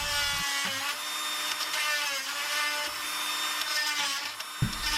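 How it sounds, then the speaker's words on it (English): An oscillating tool fitted with a small grinding attachment enlarges a hole while a stove top burner control is replaced, giving a continuous high, whining grind that holds steady at close range for the whole stretch, with no talk over it. "a better way, an oscillating tool with a small grinding attachment"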